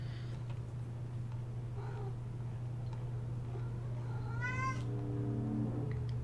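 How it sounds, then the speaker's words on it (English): A cat meows in a room with a steady electrical hum: a few faint short mews, then one clear, rising, drawn-out meow near the end, with no talking. "Hello, cat."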